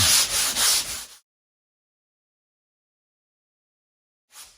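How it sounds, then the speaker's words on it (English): Light hand sanding on a drywall patch: about a second of soft, close rubbing strokes, then silence, with another brief scrape starting at the very end. "Just a little light sand in the middle."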